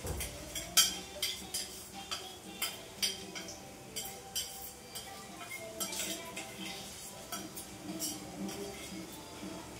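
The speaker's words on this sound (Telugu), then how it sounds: "మంచిగా మిక్స్ చేయాలి" A utensil stirs and scrapes fried onions mixed with ground garlic paste in a metal pan, giving faint, repeated clinks and scrapes in a steady rhythm with soft cooking noise underneath.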